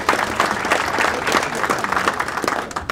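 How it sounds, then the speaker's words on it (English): An audience at a congressional breakfast event gives sustained applause, a steady dense clatter of many hands clapping at moderate distance, with no talk over it. "You can applaud."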